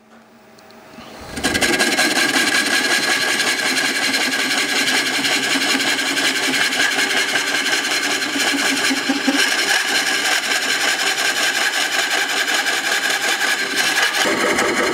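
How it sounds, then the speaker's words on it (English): A wood lathe runs steadily while a Woodcut Bowl Saver MAX cores a turned bowl, a continuous loud whirring and scraping hum that starts after a brief quiet moment and holds evenly to the end, with no talk. "We start the lathe back up."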